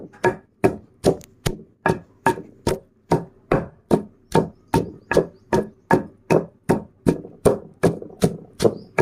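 Ginger, garlic and onion are pounded by hand for a village-style fish curry masala: about twenty heavy, evenly spaced thuds, close and loud, in a steady rhythm with no talking.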